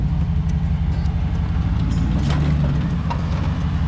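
Hemi-swapped Jeep TJ engine held at full throttle off-road, a loud steady low rumbling roar with constant droning engine tone throughout, close and unbroken, no talk.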